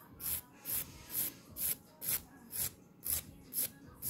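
A fingernail filed with a nail file: eight or nine short, even rasping strokes at a steady rhythm, close up and quiet, with no voice.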